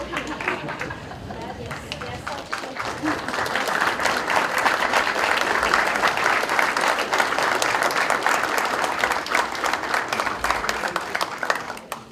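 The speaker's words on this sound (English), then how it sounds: "give those families a well-deserved round of applause" Graduates at a conferring ceremony in Thurles stand and applaud their families, a large crowd clapping loudly and continuously, swelling in the middle, with murmured chatter beneath it.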